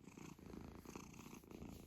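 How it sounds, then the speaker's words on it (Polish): A cat purrs steadily up close, a continuous low rhythmic rumble that stays faint and unbroken throughout with no voices over it. "No i to jest kot niekąpany już."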